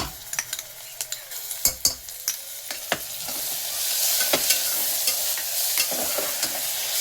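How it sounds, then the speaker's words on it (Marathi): Ground masala paste sautéing in a pan after sliced onions have browned, rice dish with green peas; a steady sizzle builds under sharp stirring scrapes and clicks of a spoon against the pan, with no talking. "वाटण छान परतून घ्यायचं"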